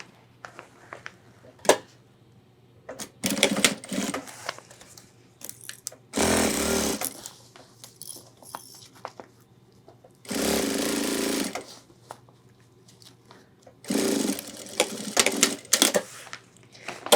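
A sewing machine stitches an ultralight 30L hiking backpack in three loud, steady bursts of a few seconds each. Between the runs come clicks and fabric handling noises.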